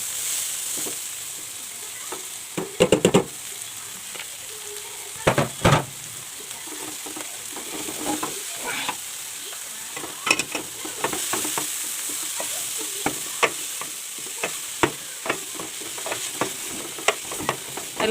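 Sukuma wiki greens tossed into a pan of golden-browned onions, a steady close sizzle of frying with repeated sharp scrapes and clatters of a spoon stirring, no voices.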